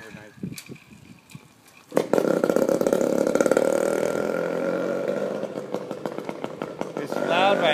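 A small two-stroke motorized bicycle engine with its exhaust baffle missing sputters, then bursts into a loud, raspy buzzing run with uneven revving, close by, while people talk over it.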